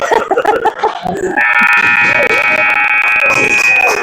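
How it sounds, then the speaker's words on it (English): A loud, steady electronic buzzer marks the end of the first period at a game, droning continuously after a brief stretch of crowd noise and voices, holding for several seconds. "that buzzer will signal the end of the first period"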